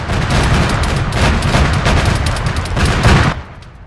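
Sustained automatic gunfire in the Arma military game on the Malden map, a loud, dense burst of rapid shots rolling on for over three seconds before cutting off abruptly.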